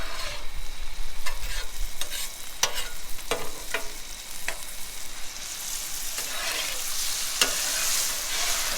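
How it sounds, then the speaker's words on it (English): Shrimp seasoned with Old Bay sizzle in butter on an outdoor griddle, a steady frying hiss broken by sharp scraping and clicking strokes from a spatula as the shrimp are stirred, fairly close and with no talking. "throwing some shrimp on the griddle"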